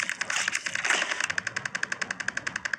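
A multi-shot gun fires in a video game: a rapid, evenly spaced burst of sharp shots rattling on for a couple of seconds, loud and close over a busy game background.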